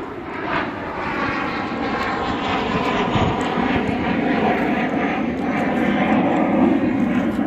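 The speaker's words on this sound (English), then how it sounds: "that was an airplane going by" A propeller airplane passes overhead, a loud sustained engine drone that swells gradually and holds steady for several seconds, with no talking over it.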